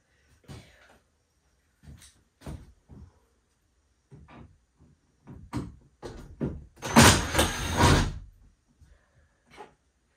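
A back kitchen door is worked open and shifted by hand, giving a run of short knocks and scrapes that build into a longer loud grinding scrape along the floor, then a few sparse taps.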